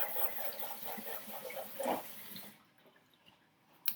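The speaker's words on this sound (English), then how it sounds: "I'm going to rinse my egg beater so I can do the red." Tap water runs while an egg beater is rinsed during paint making. A soft trickling splash plays close by and then cuts off, leaving near quiet and a small clink at the very end.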